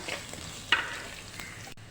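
Chopped onion and three or four green chillies sauté in a pan for a ribbonfish curry, a close steady sizzle broken by a sharp stir-scrape and a few softer stirring scuffs.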